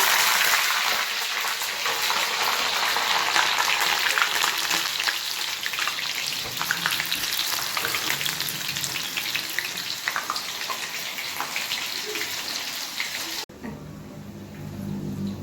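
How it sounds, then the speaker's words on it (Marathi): Green chillies crackle and sizzle steadily in hot oil, made alongside potato bhaji, with a loud, dense, continuous fry that cuts off abruptly near the end, leaving a quieter background. "असं मस्त मिरच्या तळून घेऊया"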